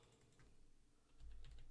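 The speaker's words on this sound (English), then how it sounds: "I was typing in Leprechaun" Quiet computer keyboard typing, a run of light, rapid key clicks that grows slightly louder and denser toward the end.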